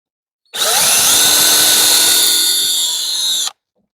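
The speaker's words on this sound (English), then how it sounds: "once we have that drilled, go ahead and put this right there." A power drill bores a hole for a fence gate latch in one loud, close, steady whine lasting about three seconds, starting and stopping abruptly, with silence before and after.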